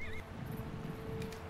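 A horse whinnies briefly at the start in the video game The Lord of the Rings: The Battle for Middle-earth II, followed by a low rumbling ambience and faint clip-clop, no speech.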